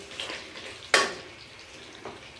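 Chicken afghani gravy cooking in a karahi over low heat, a soft steady sizzle broken by a sharp stir or scrape of a utensil and a fainter clink afterward.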